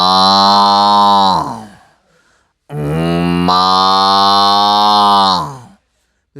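A voice imitates a cow's low, drawn-out moo twice, each call loud and close, the second longer, with a brief gap of silence between them.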